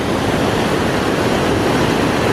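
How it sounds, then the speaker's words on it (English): A waterfall and a fast-flowing river in a Romanian forest make a steady, loud, broadband roar of rushing water, close and constant throughout, with no voices. "Getting closer and closer to the waterfall, and the river is just flowing harder and harder."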